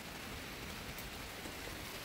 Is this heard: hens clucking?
no